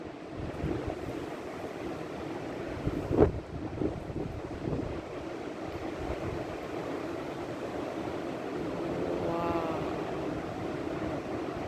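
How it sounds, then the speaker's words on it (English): Strong wind in the Blue Mountains, NSW, buffets the microphone in a continuous roar, with a brief thump and faint background sounds. "so it's windy and perfect here."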